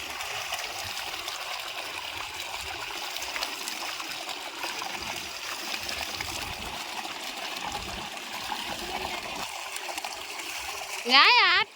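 Cold water streams and splashes in a constant, fairly close rush in a chickpea field, with a child-like voice speaking briefly at the very end.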